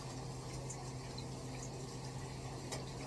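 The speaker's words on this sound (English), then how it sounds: "Turning on the water to get cold water" A kitchen tap runs cold water in a steady, even stream, constant and fairly close, with no talking over it.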